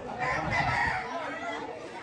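A gamecock rooster crows at a fighting-cock market in Padre Garcia, its call filling about two seconds close by with market ambience under it.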